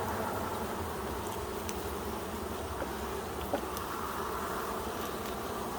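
A dense, steady hum of honeybees rises from an opened hive box full of brood and young, light-colored bees, continuous and close with a few faint clicks.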